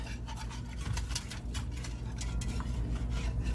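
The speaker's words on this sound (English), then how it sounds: "And we're going to stir this up." A spoon stirring rice wine vinegar into a tomato gravy for turkey Salisbury steak, steady scraping and soft clinking against the pan in a quick repeated rhythm, close and moderately quiet with no speech.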